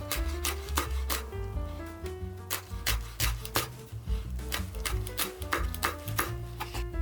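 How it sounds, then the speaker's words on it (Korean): Cheongyang chili peppers sliced thinly with a knife on a board, giving a quick run of crisp, rhythmic chopping taps under steady background music. "청양고추도 똑같이 얇게 슬라이스 해줄게요"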